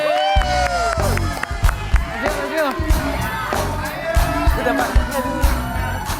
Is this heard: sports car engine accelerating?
no